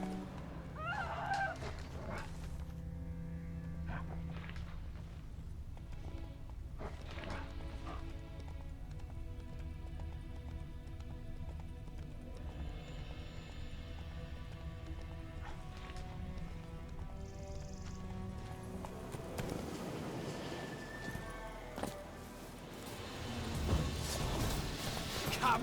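Hoofbeats of Roach, a horse in The Witcher 3 video game, clip-clop steadily at a gallop under game music and ambient noise, with a short louder burst near the end.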